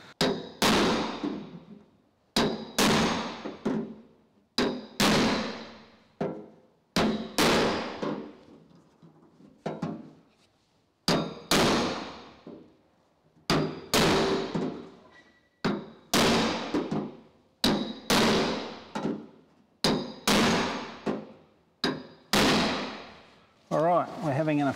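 Hammer blows dent a custom steel tailgate, struck in close clusters of sharp metallic hits with short pauses between bursts, loud and near, with no talk.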